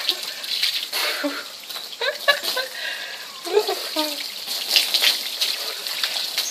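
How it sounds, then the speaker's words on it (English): A hose gushes cold water outdoors after yoga with a steady, close, splashing rush. The flow wavers and sputters as it spills over a surface. "There is a hose of cold water and it's just so enjoyable after yoga."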